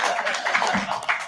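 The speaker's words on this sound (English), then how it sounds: "Please clap for her." An audience at a high-level forum gives a brief burst of scattered clapping, a dense patter of hand claps heard at moderate distance with no speech over it.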